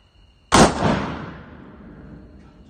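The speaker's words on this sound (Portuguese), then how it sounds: "Próximo tiro, munição 44 Magnum, semi-jaquetada" A single loud .44 Magnum semi-jacketed flat-point round fired at a eucalyptus wood plank wall, a sharp crack followed by a long rolling outdoor echo that fades over two seconds.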